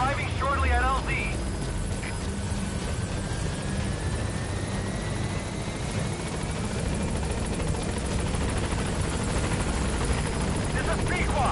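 Pequod, a helicopter in Metal Gear Solid V, approaches a landing zone with a continuous, loud rotor thrum and engine roar that stays steady throughout, close and dominant.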